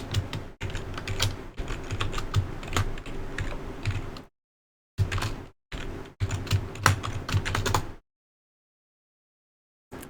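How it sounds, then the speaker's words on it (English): Someone typing a root username and password on a computer keyboard, with steady bursts of close, brisk key clicks broken by short pauses. "So first we type up root and then the password for root."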